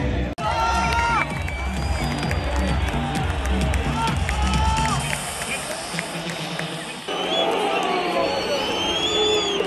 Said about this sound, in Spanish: los abucheos nos avisan que ya entró el equipo contrario, el equipo América